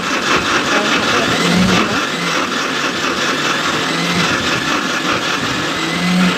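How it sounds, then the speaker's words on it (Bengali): An electric blender grinding ingredients for Bangladeshi bhorta mash, a steady loud motor whir with rough churning texture running throughout, a few pitch shifts as the load changes. "আমি তো বাটার জন্য এখানে ব্লেন্ডার ইউজ করছি"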